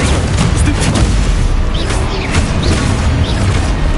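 Heavy booming blasts from the Confringo spell in Hogwarts Legacy on PS5, loud and close, with a rolling low rumble and crackling debris that fill the whole stretch without any pause.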